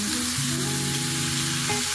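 Matki (moth beans) drop into a hot pan of spices and sizzle loudly and steadily, a close, continuous frying hiss with no talk.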